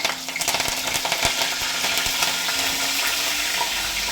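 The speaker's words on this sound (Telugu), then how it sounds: "ఇంకా అదే మూకుడులో చేసేస్తున్నాను నేను ఇప్పుడు ఏంటంటే దీంట్లో మనము ఉల్లిపాయలు పచ్చిమిర్చి వేసుకోవాలి" Onions and green chillies fry in a wok, a loud, dense, steady sizzle with scattered crackles and occasional clinks of a spoon, close and continuous with no talking.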